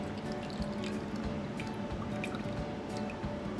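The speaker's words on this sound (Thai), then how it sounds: "เราก็เทน้ำออกเลยนะคะ" Soaking water is poured off a container of water spinach seeds, giving a quiet, steady trickle with scattered drips and faint splashes. It runs continuously and close, with no speech.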